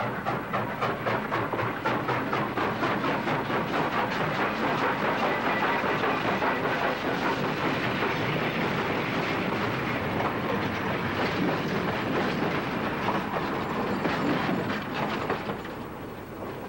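A train rumbles steadily along the rails with a fast, even chugging beat and clatter, loud and close, fading slightly at the end.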